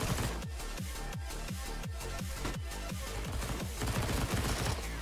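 Rapid bursts of gunfire in the video game CS:GO, a dense steady rattle of repeated shots filling the whole stretch, loud and continuous with no talk.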